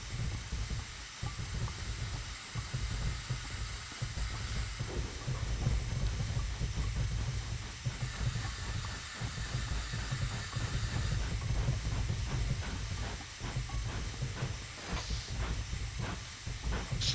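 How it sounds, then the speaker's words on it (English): Hissing air brakes on a train in Train Simulator 2019 on the Marsdonshire route, a steady broadband hiss over a low rumbling engine drone that keeps going at constant loudness throughout, with no voices. "Right, let's apply some brakes then."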